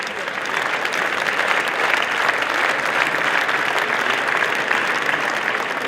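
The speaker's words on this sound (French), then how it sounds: "je vais vous demander d'applaudir chaleureusement Kevin Meyer" An awards-ceremony audience at the 2014 Midi Libre sports trophies gives warm applause for decathlete Kevin Mayer: dense, loud, steady clapping from a large crowd that holds evenly throughout, with no voices standing out.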